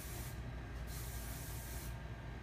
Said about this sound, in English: Now we're just gonna put just a little bit of finishing spray.